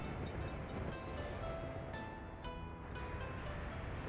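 A continuous rumbling train in the video game Workers and Resources: Soviet Republic passes with rattling wheels and repeated metallic clicks, loud and steady throughout.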